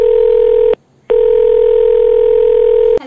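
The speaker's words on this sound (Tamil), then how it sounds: "நம்ம டைரெக்டாக அவங்களுக்கு ஃபோன் கால் பண்ணலாம்" A steady, loud telephone tone hums while a phone call is placed. It breaks off briefly, then resumes and runs on, with no voices.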